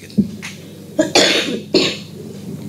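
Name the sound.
cough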